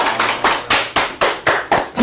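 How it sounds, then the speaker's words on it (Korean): A classroom audience claps in a quick, loud, evenly spaced rhythm of about eight sharp claps, close and alone without talk. "박수 쳐주세요, 박수"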